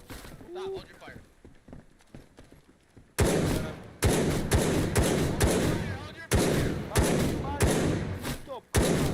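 Loud, close gunfire in DayZ on the Livonia map, sharp single shots and quick volleys cracking out over a tense squad exchange while someone talks faintly.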